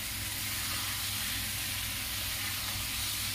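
Fried besan pieces and two green chillies roast in hot oil in a pan, a constant close sizzle and steamy hiss that stays even from start to finish.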